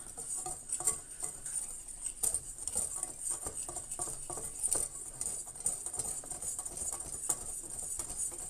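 A spoon clinks and scrapes as cookie dough is stirred in a bowl, with quick irregular taps and patters repeating close by under a faint high background tone.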